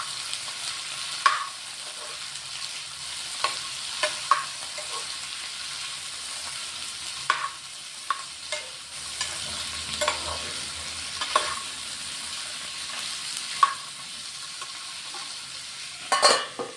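Broad beans masala frying in a pan with onions, a faint steady sizzle broken by repeated spoon scrapes and stirring clicks, with no talk.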